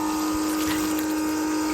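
A pump pushes water into a container for watering Japanese maple trees, giving a steady, close, continuous whir with a fixed hum and flowing water underneath, unchanging throughout.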